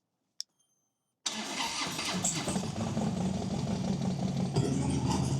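A Harley touring motorcycle fires up after a brief click and near silence, then settles into a steady, throbbing idle as it warms up, close and fairly loud.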